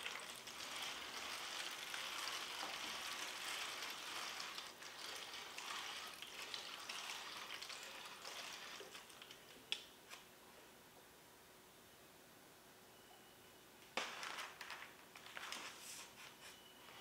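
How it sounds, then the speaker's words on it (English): Warm water pours softly over trays of pepper and dwarf tomato seedlings indoors, a faint steady trickling and splashing that fades partway through, with a couple of small sharp taps. "let's go ahead and water these guys in"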